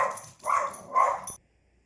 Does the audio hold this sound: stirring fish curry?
no